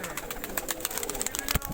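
Pigeons at a market coo in a short, soft, murmuring stretch, the low throaty calls blended with shuffling and faint background noise.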